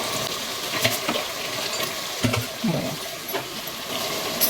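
Radish, broad beans and green plantain being added to a pan of mashed cooking tomato, giving scattered clattering drops and a soft wet stir over a steady low sizzle-like hiss, with no talking.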